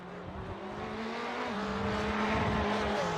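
A Ferrari GT-class race car in an iRacing sim race at Imola, its engine holding a steady loud drone with a brief dip and shift partway through, continuous and close.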